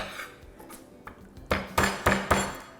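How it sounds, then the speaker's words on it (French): Garlic cloves are crushed on a hard kitchen surface with a series of sharp, loud knocks and clanks that come faster and heavier toward the end, with quieter tapping before them. "l'ail, ce que j'aime faire, c'est j'aime juste l'écraser de gousses"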